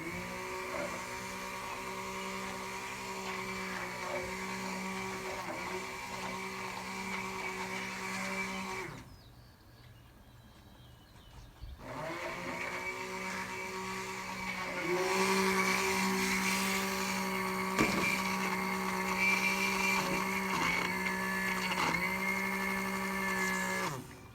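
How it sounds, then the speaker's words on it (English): A motorized stick blender mixing cold process soap on low whirs steadily at close range, its pitch wavering as it mixes, pausing briefly midway before running again slightly louder. "Then you can start mixing it on low. Like I said, with the stick blender"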